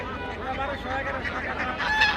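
Ducks, including medium-sized Chinese ducks, call amid the crowded bustle of a traditional village poultry market in Bangladesh, their honking squawks mixed with dense background chatter and clamor throughout.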